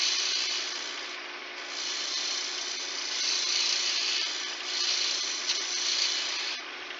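A woodturning gouge cuts a coaster blank spinning on a lathe, producing a steady, close, bright scraping hiss that swells and eases slightly as the tool is leaned over to clean up an awkward piece, with no talking.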